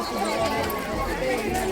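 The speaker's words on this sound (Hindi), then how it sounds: "यहाँ पे देखो कितनी सारी भीड़ लगी हुई है" Crowd gathered for Holi puja, a dense babble of many voices and footsteps close around, continuous and moderately loud.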